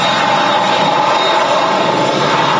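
A Ryanair Boeing 737 Max rolls down the runway at Manchester Airport, its jet engines a loud, continuous, close roar with no pause throughout.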